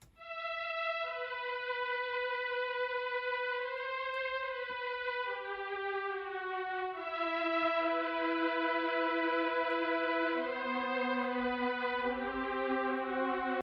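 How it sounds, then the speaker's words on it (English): A six-violins synth preset plays a slow melody of long sustained descending notes, treated with EQ and Valhalla reverb at about a 19% mix, giving a soft echoing wash with no voices. "we ended up grabbing this 6 violins preset"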